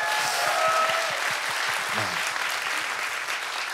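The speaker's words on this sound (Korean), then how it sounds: "박수 한번 주세요" Sustained audience applause fills a Korean talk-show studio at steady loudness throughout, with a few cheering voices rising briefly midway.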